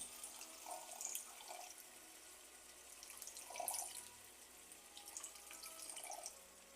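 A small amount of water is poured into a cooking pan for an egg curry, faint trickling and splashing in a few soft bursts against quiet background.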